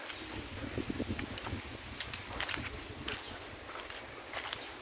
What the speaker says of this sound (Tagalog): Tapos medyo malakas yung hangin.